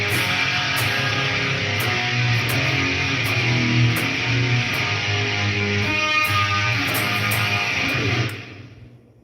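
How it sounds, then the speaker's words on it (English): Distorted electric guitar through a Celestion Greenback speaker converted from 12-inch to 15-inch size, heard alone as sustained rock playing with steady, dense tone that cuts off and fades near the end. "this is a Celestion 12-inch greenback speaker converted to a 15-inch speaker"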